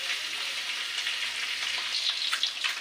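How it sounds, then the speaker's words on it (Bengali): Eggs frying in hot oil until reddish, a steady close sizzle with crackling pops throughout, no voices. "ডিমগুলো একটু লালচে করে ভেজে নেব"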